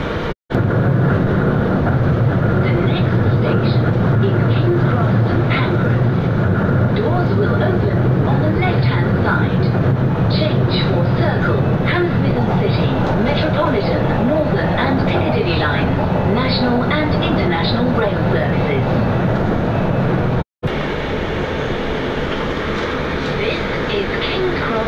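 A London Underground Victoria Line train runs between Brixton and Walthamstow Central, giving a loud, continuous rumble and rattle of wheels and carriage from inside. One sharp break interrupts it near the end.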